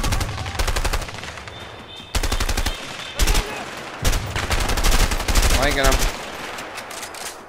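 Rapid bursts of gunfire from a shootout in the video game A Way Out ring out loud and close in repeated volleys, with a voice calling out between the shots.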